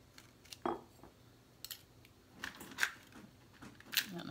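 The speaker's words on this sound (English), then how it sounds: "He's literally eating my scissors." Faint, scattered crunching and metallic clicks, irregular and close, as a cat gnaws on a pair of scissors in a quiet room.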